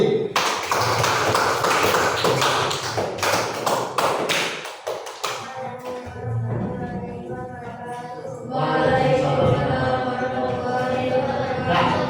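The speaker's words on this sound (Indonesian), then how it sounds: "Berikan aplaus untuk kelompok B" Applause rises for group B in a teacher education class, a dense burst of clapping that fades and then swells again, filling the room.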